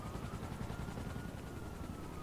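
A helicopter in the video game Grand Theft Auto Online drones steadily, its rotor chop and engine whine forming a constant, moderately quiet hum with no talking.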